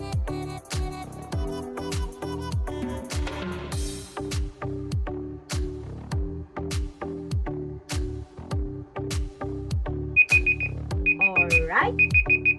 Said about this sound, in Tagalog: The timer starts now.